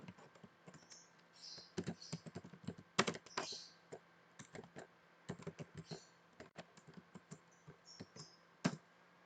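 Typing on a computer keyboard in a quiet room, irregular bursts of close, crisp key clicks with short pauses between them.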